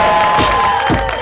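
Festival crowd at an outdoor event in downtown Rotterdam cheering and applauding together, a loud, dense, close wash of shouts and claps that continues throughout.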